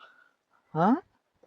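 A dog lets out one short, high whimper close by, lasting about a quarter second in otherwise quiet surroundings.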